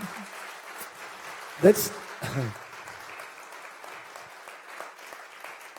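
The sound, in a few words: audience applause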